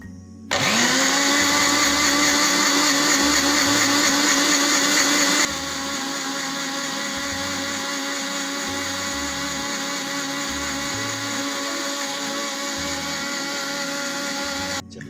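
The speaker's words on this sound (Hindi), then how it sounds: "ब्लेंडर में सब चीज़ें डाल दी हैं और अब हम इन चीज़ों को" A blender grinding mint lemonade ingredients whirs loudly and steadily, then drops to a slightly lower, sustained grinding hum after a few seconds, running continuously to the end.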